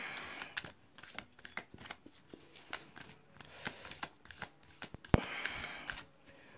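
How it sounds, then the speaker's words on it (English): Rapid papery riffling and tapping of oracle cards being shuffled, a steady clatter of quick bursts with one sharp thump near the end, no voices. "I like to shuffle them on camera"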